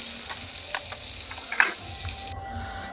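Potatoes fry in oil with onion, green chilli and five-spice: an even, moderate sizzle runs throughout, broken by a few light taps and one sharper click of a spatula.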